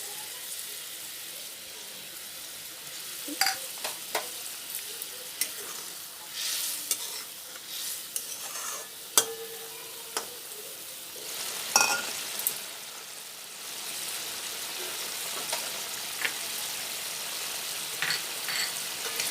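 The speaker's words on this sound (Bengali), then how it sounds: "ঝোলটা ফুটে গেছে। এবার আমি মুঠোটা দিয়ে দেবো।" Chitol fish dumplings simmer in a bubbling gravy with a constant soft hiss, while a spoon stirs and scrapes the pan in scattered clicks and knocks over about twenty seconds.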